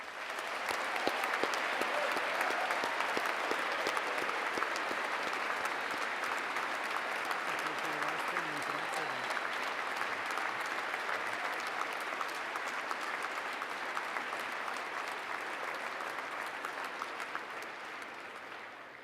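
A large audience at a 2013 Naval Academy distinguished graduate award ceremony claps in sustained, dense applause, even and full for nearly twenty seconds before tapering slightly at the end.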